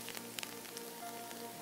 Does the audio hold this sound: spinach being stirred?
yes